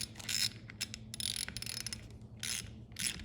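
A ratchet snugs up a greased part on an International cabover truck, sounding as quick bursts of rapid clicking that come in several separate runs with short pauses between them, close and clear.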